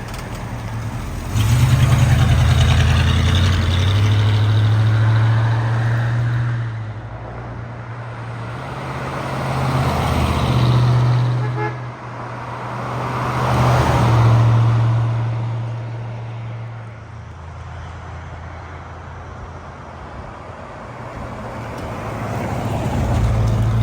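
A 1964 AMC Rambler Classic 770 two-door hardtop making repeated drive-by passes, its engine hum swelling and fading several times as it approaches and recedes, with a steady low drone between passes.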